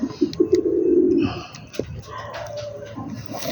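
Domestic pigeons being paired for breeding give a low, rolling coo close by in the first second or so, followed by quieter calls and shuffling sounds.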